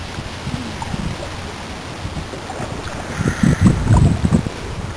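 A canoe is paddled on the Rum River, with soft water splashes and dips from the paddle rising near the end over steady wind noise on the microphone.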